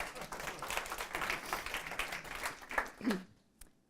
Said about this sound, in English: Round of applause for Yespa.